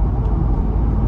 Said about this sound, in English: on the concrete pavement, the road noise is still very quiet